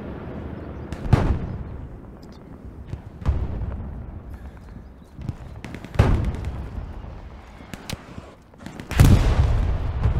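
Gunfire and artillery in the Hell Let Loose Stalingrad battle, sharp distant shots and heavy booms every few seconds over a rumbling battlefield backdrop, no talk.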